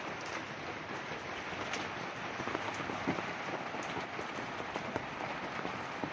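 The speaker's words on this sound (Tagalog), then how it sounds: "sobrang maulan labas po tayo" Heavy typhoon rain falls outside a rural house in the Philippines where chickens and goats are kept, a constant dense wash of drops with scattered sharper patters, moderately close, with no talk.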